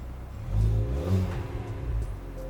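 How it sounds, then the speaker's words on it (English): A car engine idles and revs unevenly right after its spark plug gaps were reset, with a steady low rumble that swells in short bursts near the mic. "Sounds like the engine's running."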